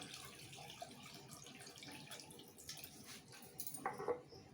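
Cold water, about a litre, poured onto freshly curdled chenna for kalakand in a home kitchen, giving a soft, steady splashing stream at close range with no talking.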